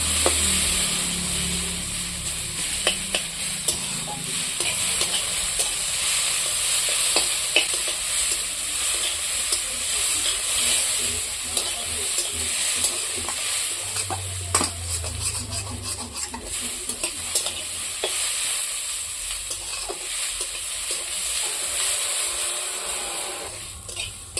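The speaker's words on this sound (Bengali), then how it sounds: "আলু ভাজা হচ্ছে" Potatoes sizzle steadily in a hot pan while a spatula scrapes and stirs at irregular intervals, close up and moderately loud.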